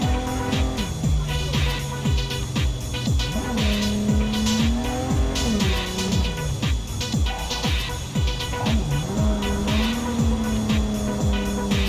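A car drives in a racing video game running on an XFX Speedster Merc 319 Radeon RX 6800 XT, its engine droning steadily and shifting pitch with repeated tire squeals, loud and continuous throughout.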